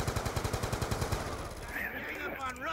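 Rapid automatic gunfire from a weapon such as an RPD shooting zombies in Black Ops 2 Zombies on the Die Rise map, a steady burst of evenly spaced shots that stops midway, followed by game sounds and a brief voice.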